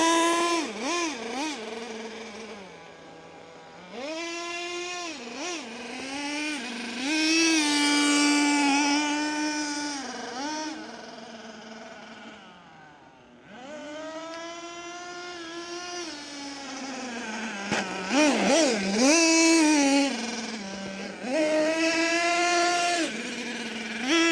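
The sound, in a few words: RC nitro truck engine idling and revving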